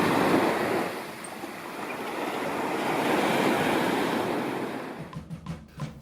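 Ocean surf washing steadily onto a beach at sunset, a broad continuous roar of breaking waves that swells and eases, fading near the end into softer, choppier wash.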